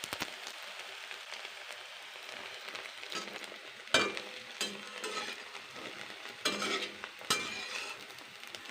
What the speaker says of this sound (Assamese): কি ধুনীয়াকৈ তেলবোৰ ফুটি ফুটি ওলাইছে চাওকচোন বাৰু